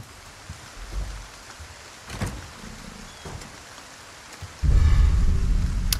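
Rain falling in Resident Evil 4, a soft steady patter with a few sharper hits, then a sudden heavier low rumbling surge of downpour near the end.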